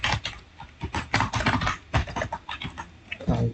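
Rapid keystrokes on a computer keyboard during live coding, close and fairly loud, with bursts of uneven clicking and short pauses, no talk over it.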